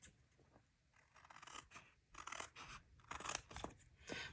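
Scissors snipping and trimming paper at a craft table, a series of short crisp cuts in quick irregular bursts, close and fairly quiet, with no talking.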